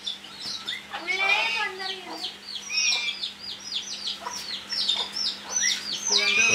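A brooding hen that has hatched three chicks clucks repeatedly at close range in a lively, uneven series, with bright chirps mixed in and a steady low hum underneath.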